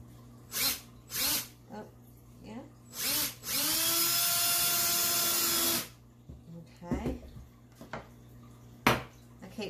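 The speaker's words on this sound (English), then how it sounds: "I can start pre-drilling right in the middle here, here and here, all six of them, and get some nails in there." A drill pre-drills holes in kitchen slats, running in one sustained whine for a few seconds with a shifting pitch, between scattered knocks and clatter close by.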